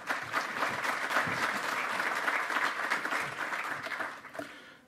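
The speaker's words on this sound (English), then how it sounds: "I hope you'll give a big round of applause to Jeffrey Beall" A conference audience applauds a keynote speaker, a dense sustained clapping from a crowd that holds steady and then tapers off at the end.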